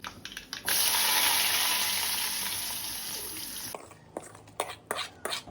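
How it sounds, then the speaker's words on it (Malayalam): Mustard seeds sizzle loudly as they hit hot oil while tempering a prawn curry, a sharp burst of crackling that slowly fades, followed by a few scattered clatters and knocks. "പിന്നെ ഇതിലേക്ക് കടുക് താളിച്ചിടണം കേട്ടോ."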